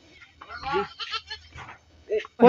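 A goat bleats close by in a few wavering calls with short gaps between them, and a sharper cry comes at the end.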